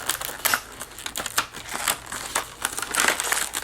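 Crinkling and crushing of plastic packaging as an American Tourister luggage scale is unboxed, rapid close rustles and crackles with no talk.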